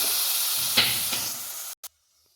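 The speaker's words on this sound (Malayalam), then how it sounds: "കുറച്ച് പുളിവെള്ളം ഒഴിച്ചു കൊടുക്കുക" Tamarind water hitting a hot pan of ginger curry spiced with coriander powder, a loud steady sizzle and hiss with a couple of brief stirring scrapes, then cutting off abruptly into near silence.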